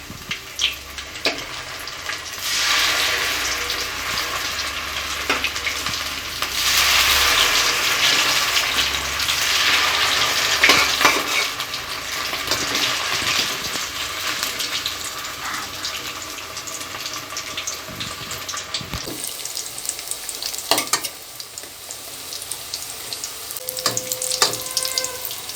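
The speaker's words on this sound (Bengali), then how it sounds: "আমি একেবারে মিডিয়াম টু লো আঁচে বড়াগুলো ভেজে নিয়েছি।" Stuffed pointed gourd boras fry in a kadai on medium-low heat, a continuous, fairly loud sizzle and bubble with occasional clicks of stirring or turning, alone without talk.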